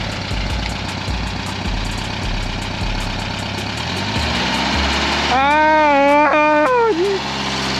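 A stick-shift car engine, driven by a learner on a practice lap, runs steadily and then revs up loudly with rising, whining pitch, close and continuous.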